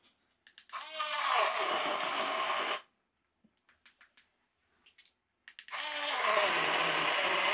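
A kitchen mixer grinder blends food in two loud, steady bursts of a few seconds each, separated by a quiet gap filled with small clicks and clatter as the jar is handled.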